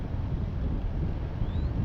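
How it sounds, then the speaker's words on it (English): Wind gusting across outdoor microphones at a hot-air balloon fiesta during a special shapes competition, a steady low rumbling buffet that fills the whole stretch at moderate loudness, with no talk over it. "there's a gust of wind. You can probably even hear that in our microphones."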